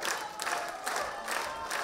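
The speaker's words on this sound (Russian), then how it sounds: "Зрители аплодировали стоя." Theatre audience at a Buryat drama theatre applauding in a standing ovation, a dense steady wash of clapping with swelling bursts of crowd noise throughout.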